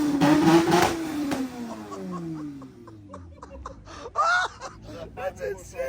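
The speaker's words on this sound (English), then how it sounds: "It's a 500 horsepower Mini." A 500 horsepower Mini revs at a car show, its engine note sweeping up and then falling away early on. Voices and laughter follow around it.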